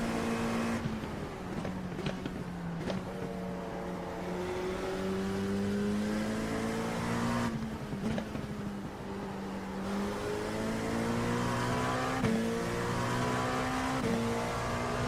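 GT3 race car engines in a racing video game whine and rev through rising and falling gear changes, roaring steadily with no talking.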